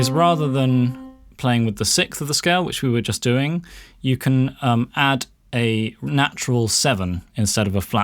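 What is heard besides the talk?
None of the usual background noises is heard.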